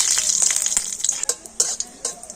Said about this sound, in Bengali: তো শুকনো লঙ্কাটা একটু ভালো করে ভেজে নিয়েছি